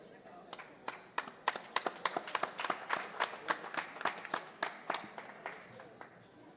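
A small audience claps after a poem recital at a mother-tongue event in Miahuatlán, Oaxaca, a sparse, uneven run of distinct handclaps at moderate distance.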